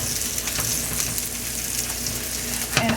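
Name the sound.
steak quesadillas frying in a pan after flipping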